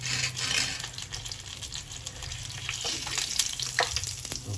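Fish frying in hot oil until golden, a busy crackling sizzle with bursts of spattering and occasional utensil scrapes, close and fairly loud throughout.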